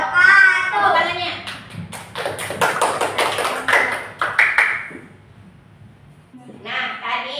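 Children in a classroom clapping together in a short, rapid burst of claps lasting a few seconds, following and preceding a teacher's voice speaking.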